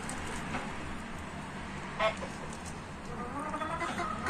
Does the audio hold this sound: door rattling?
no